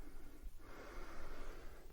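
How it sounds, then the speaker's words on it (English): During yoga practice, someone takes a deep, audible breath close to the mic, a breathy snort-like inhale followed by a longer airy exhale over a quiet, rumbling background. "Breathing deeply."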